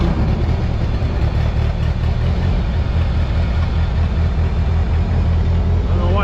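A 12-volt tractor engine running on a cold morning, a steady loud low rumble throughout, close, with someone talking over it.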